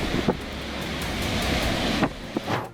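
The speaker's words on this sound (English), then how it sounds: "A powerful hurricane from Greenland strikes the European coast." Hurricane wind roaring and waves crashing against the European coast, a loud, continuous rush of gusts buffeting the microphone with a few sharper surges near the end.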